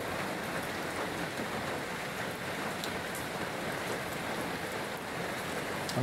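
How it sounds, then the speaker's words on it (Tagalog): Heavy typhoon rain pours down steadily in a dense, unbroken wash of noise, close and loud throughout with no voices. "Bugsok na naman yung ulan."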